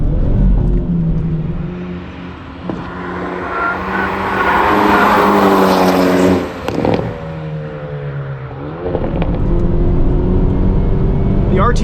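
A modified 2022 Hyundai Elantra N with a 6-speed manual laps a race track, its engine droning and revving close up with gear changes and tire noise, while a voice talks steadily over it.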